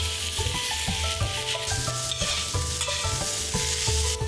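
Shredded shiitake mushrooms, dried sakura shrimp and pork strips stir-fried in oil in a wok over medium heat, with steady sizzling and repeated scraping and tossing strokes of a spatula, close and continuous, with no talking.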